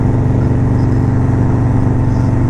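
A brand-new, fancy-painted motorcycle engine running close and loud, a steady throaty drone with rapid pulsing firing beats throughout, holding an even pitch with no talk.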